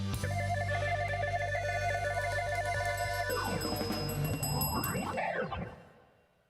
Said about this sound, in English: I felt like ringing my bell.